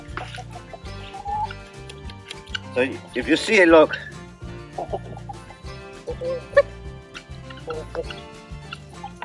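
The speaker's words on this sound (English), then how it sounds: "As you can see, chickens love it." Several chickens cluck and squawk close by on a farm, with a busy burst in the middle as they go at fermented feed, while a person talks over the flock.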